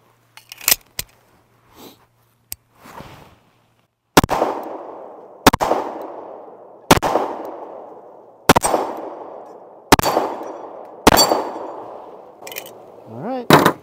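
An Alchemy Prime Elite pistol fires Super Vel hollow points in a steady string of about seven loud, close, sharp shots. Each shot is about a second and a half apart and leaves a ringing tail. A few fainter clicks and pops come before the string.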